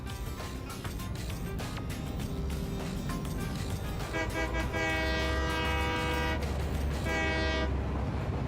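A locomotive horn sounds in the video game Satisfactory: long, steady, multi-tone blasts repeat over a continuous low rumble of the moving train, loud and close.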